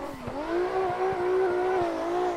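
Revving car engine in a drifting video game driven with hand controls only, the pitch dipping and climbing as the clutch is kicked, steady and loud with no talk.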